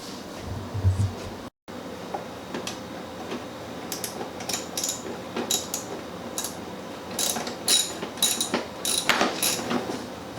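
Ratchet wrench clicks in short repeated runs as bolts come off the cover of a Toro Recycler mower, close and fairly quiet, with scattered metallic taps and handling noise.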